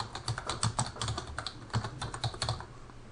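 Quiet, rapid keystrokes on a computer keyboard as a contact name is typed, irregular clicks close to the microphone with no voices.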